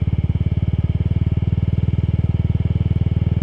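A Yamaha Mio Soulty scooter engine runs close by with a loud, steady, fast throbbing pulse that holds an even rhythm throughout.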